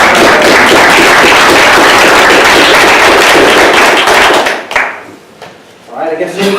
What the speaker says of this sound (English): You can round of applause